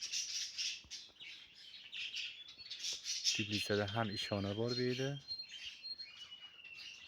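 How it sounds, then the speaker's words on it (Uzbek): Small birds chirp and tweet repeatedly in a greenhouse shed, bright, close calls running throughout while someone talks over them. "ham qushlar ham bor"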